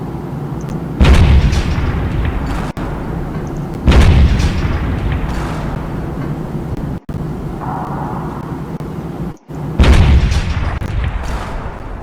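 Airstrike explosions in the game Teardown roar loud and close, with three heavy booms over a continuous rumbling wash of destruction.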